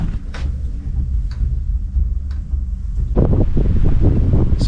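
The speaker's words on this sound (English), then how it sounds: "Currently I have a 20-mile-an-hour wind sustained" Strong sustained wind of around 20 miles an hour at a lakeside, heard as a low buffeting roar across the microphone that swells louder and gustier in the second half, with no talking.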